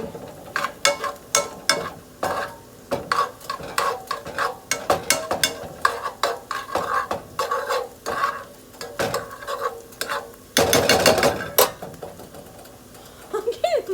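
Vegetables for tomato bisque sizzle in a pot while a spoon scrapes and stirs in uneven bursts, with a louder clattering flurry near the end; a voice murmurs faintly beneath.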